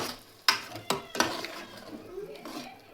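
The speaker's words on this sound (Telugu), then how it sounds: "పోసుకొని అటు ఇటు కాస్త కలుపుకుందాం" Metal spoon clinks and scrapes against a cooking pot while tamarind juice is stirred for a fish curry, three sharp knocks followed by softer swirling and bubbling.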